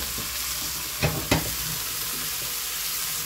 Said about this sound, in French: Et là, je mets les aubergines coupées en gros morceaux parce que je ne veux pas une bouillie.